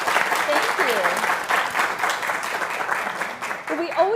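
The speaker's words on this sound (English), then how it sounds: "let's have a round of applause for Janet" Audience at a family literacy day event gives a round of applause, steady dense clapping throughout at moderate level, with faint voices underneath.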